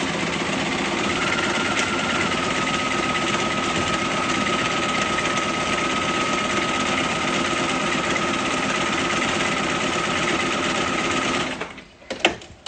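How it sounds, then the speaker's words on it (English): A sewing machine stitches a quilt seam on fabric strips with a steady, close, high-pitched motor whir. It runs unbroken for about eleven seconds, then stops, leaving a few faint handling sounds. "let me just finish up the seam"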